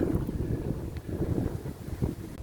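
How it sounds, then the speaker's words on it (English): Continuous low rumbling wind buffeting the microphone, steady and fairly loud with gusty fluctuations and no voices. "it's a little bit windy"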